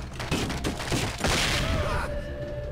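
Gunfire from a shotgun in the Gardaí video game, several loud booming blasts in quick, irregular succession, close by and reverberant, followed by a sustained rumbling tail.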